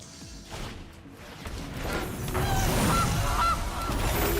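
Goose honks from the card game MTG Arena, a few loud calls rising over a busy background of game effects.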